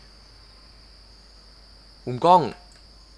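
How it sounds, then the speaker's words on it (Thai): A faint, steady high-pitched cricket chirring from the horror game 9 Childs St persists throughout, briefly interrupted by a short spoken phrase. "เสียงจิ้งหรีด"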